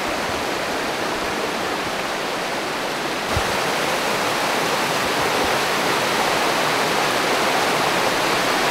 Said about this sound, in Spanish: A ver, Tomás, este es el río Pas